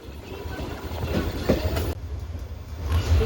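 A moving passenger train rumbles and rattles steadily throughout, with a low continuous roar, a few brief clunks and rising bursts of wheel-on-track noise, heard from inside a carriage.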